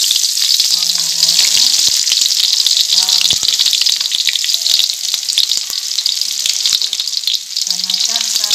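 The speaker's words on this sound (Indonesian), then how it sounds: "kita masak sampai harum dan warnanya kekuningan." Shallots sizzling and frying in hot oil in a pan, a loud, steady crackling hiss that continues throughout, with a few brief voice fragments over it.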